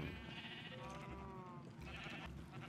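Sheep bleat in Minecraft, a few drawn-out wavering calls rising over constant low game background noise, faint and distant, with no speech.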